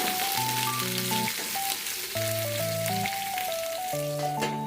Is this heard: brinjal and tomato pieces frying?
yes